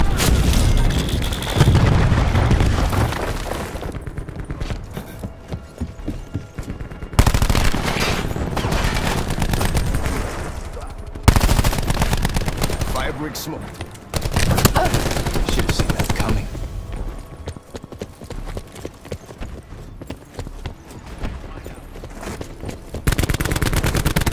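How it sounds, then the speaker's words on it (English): Black Ops 4 combat with cluster grenade blasts and gunfire: heavy booming explosions and bursts of machine gun fire come in dense loud waves, broken by short muffled lulls. "Throwing cluster grenade."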